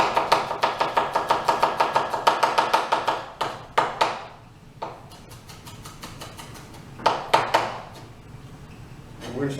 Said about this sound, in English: we're going to do a little couple of garlic slices